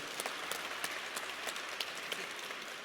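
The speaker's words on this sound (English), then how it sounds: "give Mr. Howard a warm round of applause" At an Alabama A&M press conference introducing new head football coach Sam Shade, the room applauds Mr. Howard: moderately loud, steady clapping with a few sharper individual claps standing out, and no talk over it.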